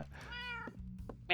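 A house cat gives a single close, drawn-out meow, followed by a few soft knocks and a brief thump.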